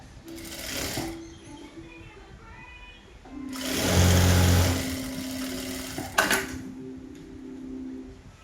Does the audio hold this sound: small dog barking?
no